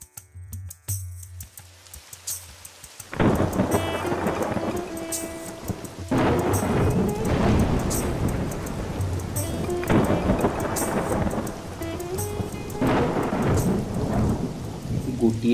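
Heavy rain pours steadily with loud rolling thunder, starting after a quiet opening and building into continuous downpour with repeated rumbling bursts, no voices.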